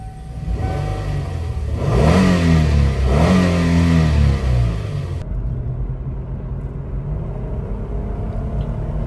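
A 262,000-mile Kia Sedona with a new catalytic converter drives off, its engine loud and near, revving up twice in rising sweeps before settling into a steady cruising rumble.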